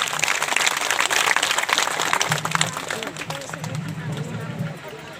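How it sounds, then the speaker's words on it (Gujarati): An audience at a religious naming ceremony during a Rukshmani Vivah week-long gathering breaks into dense, crackling applause that fades toward the end, with voices and crowd babble mixed in. "તાળીઓથી વધાવી લ્યો."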